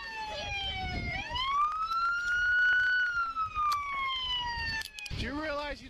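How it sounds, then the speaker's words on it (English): A police siren rises and holds a steady wail, then drops away, ending in a burst of other noise; it is loud and nearby. "I'm sorry for the sirens."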